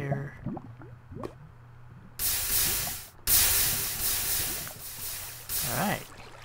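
Molten lava poured onto water bursts into loud, sustained hissing steam in several long surges, broken by short gaps and crackling drips, with voices talking in the background between bursts.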